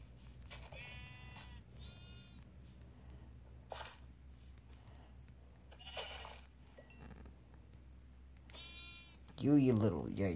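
Sheep in Minecraft bleat in several short, separate calls spaced across the clip, fairly quiet, with a voice talking near the end.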